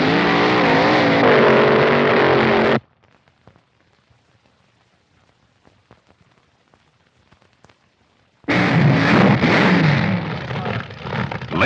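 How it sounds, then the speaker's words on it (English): Vintage drag racing cars at the National Drag Racing Championships at Indianapolis on Labor Day. Two loud bursts of roaring engines are separated by about six seconds of near silence. "Two cars dice for a quarter mile."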